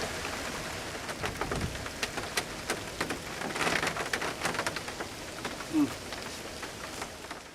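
Steady rain falls on a rainy day at a Georgia farm, a dense, even patter of drops hitting nearby surfaces with faint irregular taps throughout.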